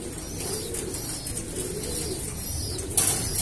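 Breeding pigeons coo in their loft, a soft, low, repeated rolling call close by over faint background hiss, with a brief brighter chirp near the end.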